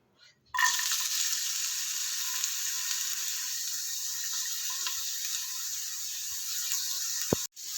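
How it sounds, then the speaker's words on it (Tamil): Onions sautéing in hot oil, with a sudden start of steady, close crackling and hissing that continues evenly without any voices. "வெங்காயம் போட்டு வெங்காயம் கொஞ்சம் வதங்கணும்."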